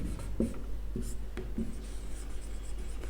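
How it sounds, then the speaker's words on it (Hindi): Chalk or marker strokes write a sentence on a classroom board, a series of short scratchy taps and strokes in an irregular rhythm, close and clear with no talking. "मैं यहां पर एक सेंटेंस लिख रहा हूं"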